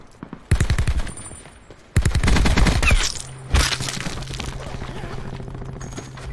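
Video game gunfire rings out in loud bursts, one rapid automatic volley followed by a longer sustained stream of shots, then a final blast fading into a lingering rumble.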